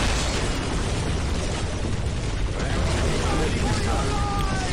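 A stun grenade going off amid a busy battle in Dawn of War, one continuous dense roar of blasts and mechanical clatter that stays loud and unbroken throughout.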